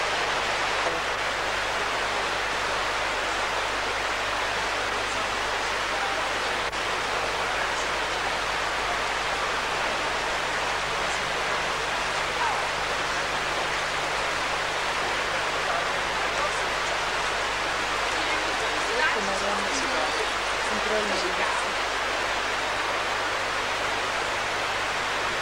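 A river near Karlovy Vary, Czech Republic rushes with a dense, steady roar that fills the whole stretch, a low hum beneath it and faint voices briefly near the end.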